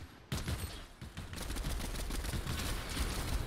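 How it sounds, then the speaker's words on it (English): Sniper rifle gunfire in the Fortnite video game, a sharp opening shot followed by a rapid run of loud cracking shots in a noisy match. "It's a new sniper rifle."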